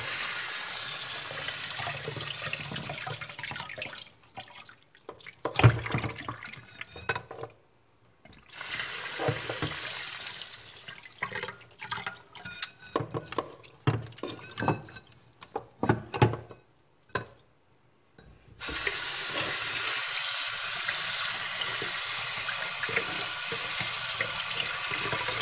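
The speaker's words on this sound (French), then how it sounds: "Maintenant, immédiatement, mettre de l'eau froide." Cold tap water runs steadily into a pot of rice, a broad continuous gush that stops and restarts several times with sloshing and clinks of handling in between, ending in a long uninterrupted pour.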